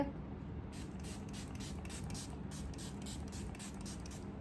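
A Faces Canada makeup setting spray hisses in a rapid series of short bursts, about a dozen quick pumps close to the microphone over a steady low room hum.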